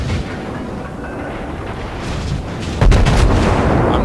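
Warship secondary guns firing in World of Warships, a dense rumble of cannon blasts that grows heavier toward the end with a sharp, louder volley near the close.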